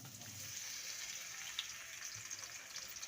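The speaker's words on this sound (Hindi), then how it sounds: "कढ़ाई हमने गरम कर ली थी, अब इसी में मैं आलू डालूंगी।" Potatoes go into a hot kadhai and fry with a soft, steady sizzle and faint hiss, low in level and continuous, with a small pop partway through.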